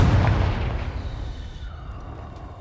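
A Confringo blasting spell bursts in Hogwarts Legacy with a loud, close boom, and the rumble decays into a fading tail over a couple of seconds.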